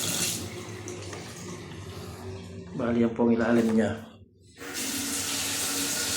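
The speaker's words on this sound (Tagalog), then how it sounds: "Malakas yung tubig." A strong stream of water gushes from a faucet in a renovated bathroom, a loud hissing rush that drops out briefly near the middle while a person speaks, then returns at full force.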